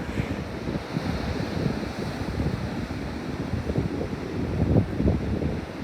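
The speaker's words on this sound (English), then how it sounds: "the sea's still quite churned up." Rough, continuous surf noise with wind buffeting the microphone, waves churning steadily at moderate volume with no voices.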